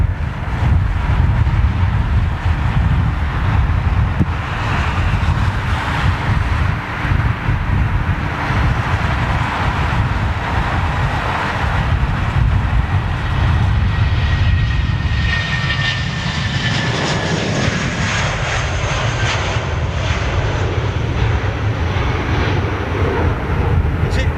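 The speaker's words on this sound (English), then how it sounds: "That 747's fired up. We're going to hear her taxiing up." Boeing 747 jet engines on a final flight taxiing: a loud, steady, continuous roar with a rising turbine whine in the later part, close and unbroken throughout.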